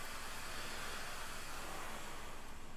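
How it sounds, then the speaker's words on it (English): A vacuum cleaner runs in a kitchen in another room, a steady broadband whoosh droning on without a break at moderate, slightly distant level. "that's my wife doing the vacuuming in the kitchen."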